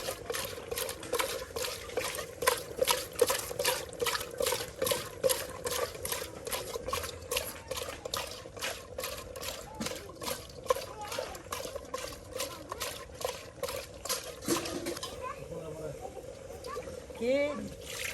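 Water is poured and splashed over cleaned taki fish as they are rinsed, giving a rapid, rhythmic series of close splashes and trickles that ease off near the end, while a person talks over it.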